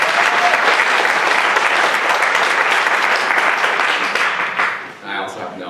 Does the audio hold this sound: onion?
no